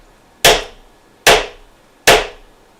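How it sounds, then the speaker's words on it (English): A hammer strikes three sharp, loud, close whacks at an even pace, each decaying quickly into silence, during an unboxing, with no talking. "This is the hammer."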